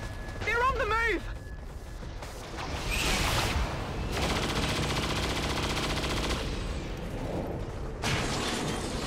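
Sustained bursts of suppressing gunfire in the video game XCOM 2, loud and continuous for several seconds in dense, crackling volleys after a quieter opening.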